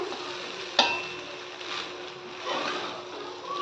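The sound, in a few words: stirring and turning over rice in a pan for omelette rice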